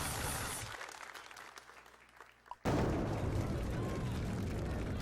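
A crowd roars and applauds during a Silver Strike bowling game, a loud burst of cheering that fades, then surges back suddenly and holds at full volume.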